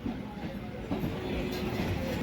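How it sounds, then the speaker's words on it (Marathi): A sleeper-class carriage rumbles as the train pulls out of Dharmabad station, a steady, moderately loud rolling drone with faint rail clatter and no talk. "आणि आता आपली ट्रेन धर्माबाद येथून निघेल."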